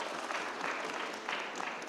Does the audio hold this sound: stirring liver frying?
no